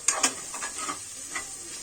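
A spoon scrapes and stirs tomato rice mixed with biryani masala in a pan, giving a couple of clinks at the start and then soft, faint scraping over a steady low sizzle.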